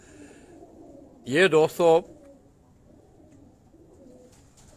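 Pigeons at a farm house give a short run of three or four throaty coos, close and clear against a quiet background hum.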